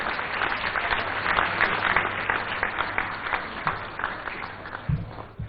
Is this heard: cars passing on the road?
no